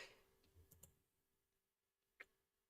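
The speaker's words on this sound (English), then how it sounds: "Forgot to click enter." A few faint, sharp clicks of an Enter key on a computer keyboard, sparse and isolated in a quiet room, with a brief murmur at the start.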